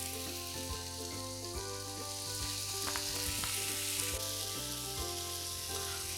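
Fried vegetable quinoa with mint and cilantro gently stirred in a pan, a steady soft sizzle with scraping stir strokes, heard alongside a sustained musical backing.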